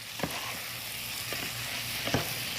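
Frozen corn and lima beans sizzle steadily in a hot pan, a soft continuous crackle with a few brief stirring scrapes, fairly quiet and with no talking.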